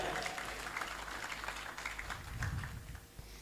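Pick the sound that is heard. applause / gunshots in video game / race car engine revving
applause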